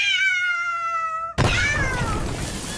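A cat meows in a long, drawn-out, clear tonal cry that ends abruptly, followed by a hissy, noisier stretch with a fainter trailing meow-like tone.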